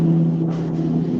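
A heavy truck passes close by in a town, its engine giving a loud, steady droning rumble that stays level throughout, with no talking.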